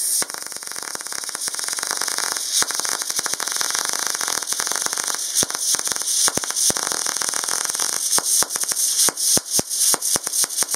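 MIG welding on very thin 0.8 mm sheet metal with a Vevor MIG 250 set near 49 amps, giving a steady close crackling hiss broken by frequent sharp pops and spatter bursts, with no voices.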